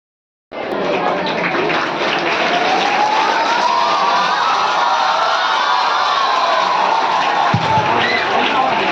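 A large crowd of schoolchildren at a stage ceremony where garlands are offered, cheering and clapping loudly and continuously in a dense roar that fills the space.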